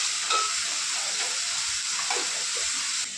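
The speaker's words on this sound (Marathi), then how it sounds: "तेल तापलं आहे, आता याच्यात आपण कांदा टाकून घ्यायचा।" Onion sizzling in hot oil in a pan while a mutton dish is cooked: a steady, bright frying hiss, close and continuous, with faint stirring scrapes and no talking.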